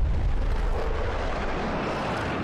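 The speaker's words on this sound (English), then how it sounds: "they didn't have to do it right when them F-18s went by" F-18 fighter jets roaring past in the film Top Gun: Maverick, a dense, loud, continuous rumble that fills the moment and eases slightly as it goes on.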